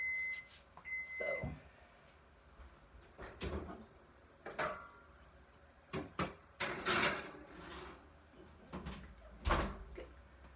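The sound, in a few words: oven door opening and closing as meatloaf goes in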